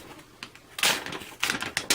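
Paper tears in short, rough bursts as a dull hedge trimmer knife cuts through it. The rips come close and clear, several irregular ones over two seconds, with no talking.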